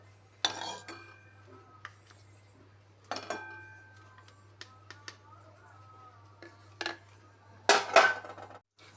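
Fried potatoes and oil being lifted out of a kadai with a metal spoon, giving several separate sharp clinks and scrapes against the pan, close and bright, over a faint low hum with quiet gaps between them.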